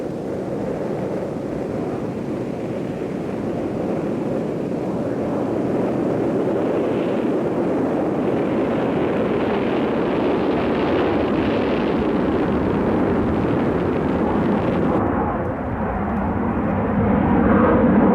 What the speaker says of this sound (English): the Valkyrie took to the air for the first time